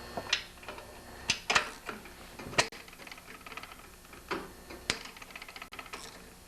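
A 10mm cowling bolt comes off a Briggs & Stratton snowblower engine in sparse, sharp metallic ratchet clicks, a few loud ones spaced irregularly over a quiet background.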